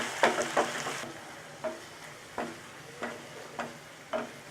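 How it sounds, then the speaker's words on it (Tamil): Tomatoes sauté in a pan for Chettinad chicken chukka varuval, a gentle sizzle under regular spatula stirring strokes that scrape roughly every half to three-quarters of a second, close and moderately loud. "இந்த தக்காளி நல்லா மசிஞ்சு வரணும், அது வரைக்கும் வதக்கிக்கலாம்."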